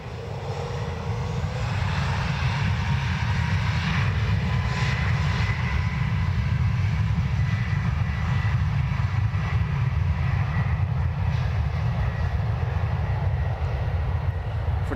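An aircraft takes off at Dublin Airport: a loud, steady jet engine roar fills the entire span, swelling in at the start and holding a constant heavy rumble with no speech.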